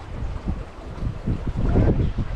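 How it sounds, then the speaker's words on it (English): Wind gusts buffet the microphone aboard a newly built cruising sailboat under sail at sea, a rough low rumble that swells louder in the second half. "A bit of breeze picking up."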